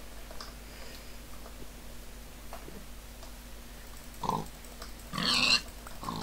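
Pigs in the video game Minecraft grunting, two short grunts near the end over a quiet steady game background with faint ticking.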